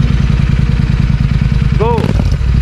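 Close, loud idle of a Royal Enfield GT 650 running an Offtrails exhaust with the DB killer removed, a steady deep thumping pulse, with someone speaking briefly over it.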